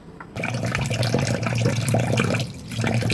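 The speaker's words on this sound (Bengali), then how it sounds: "এখন আমি এটাকে পানি দিয়ে 10-15 মিনিট ভিজিয়ে রাখবো" Water poured into a pot of lightly fried broken polao rice and mung dal for khichuri, a close splashing, gurgling stream that starts suddenly and runs steadily with brief dips.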